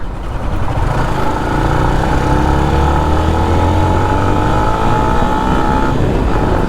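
A motorcycle engine runs steadily and loudly throughout, with a rising whine as the revs climb near the end; the bike tends to stall when the throttle is released.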